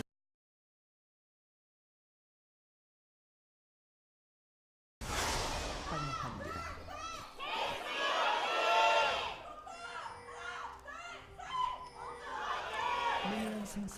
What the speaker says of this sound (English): Kongdoo fans certainly with something to scream about this time